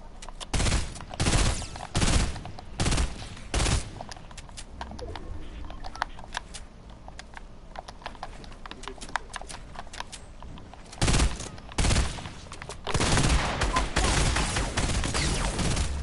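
Rapid gunfire bursts in the video game Fortnite, loud clustered volleys spaced through the clip with quieter stretches of scattered shots between them.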